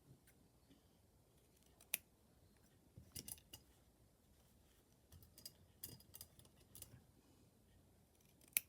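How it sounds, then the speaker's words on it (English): Scissors snip through fabric being cut out for a sewing project, faint sparse clicks and crisp cuts scattered over a quiet background. "Let me just cut this part out."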